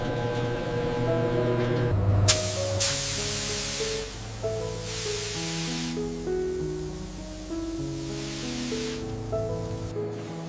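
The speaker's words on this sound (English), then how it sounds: "A fine spray of water washes the crystals to remove remaining molasses." A broadband hiss of fine water spray washing molasses off sugar crystals in a spinning centrifuge basket at a sugar factory, steady over a low mechanical hum and tonal machine drone, with a few louder spray bursts.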